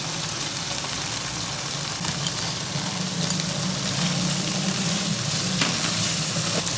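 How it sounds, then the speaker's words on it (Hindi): Curry leaves and green chilies frying in ghee-rich masala for fish pulao, a loud, continuous close-up sizzle with a low rumbling undertone and occasional stirring. "अब इसमें कड़ी पत्ता और सब्ज़ मिर्चें ऐड करें।"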